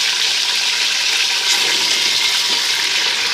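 Meat frying in hot oil for biryani, a loud, close, continuous sizzle and crackle filling the whole short stretch.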